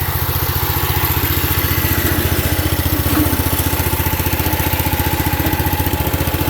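A 1970s International Cub Cadet 127 riding lawn tractor engine runs at a steady idle, close and loud, with an even, rapid low putter throughout and no talk.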